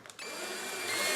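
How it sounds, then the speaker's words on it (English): A power drill on low torque drives screws while a Helix 7 DI GPS fish finder is assembled, a short steady whirring run that starts after a brief click and stays close and even. "If you're using a power drill like I have here in my hands."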